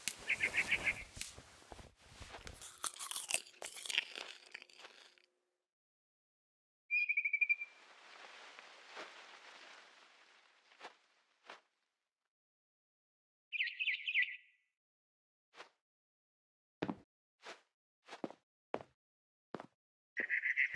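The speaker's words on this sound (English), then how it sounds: "Then I heard chirping outside my window." A barn swallow chirps in the game What Remains of Edith Finch, giving short sharp calls scattered across quiet gaps after a busier opening of clatter and ambient noise, fairly faint and with no talking.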